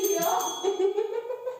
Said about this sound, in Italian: Suona il campanello.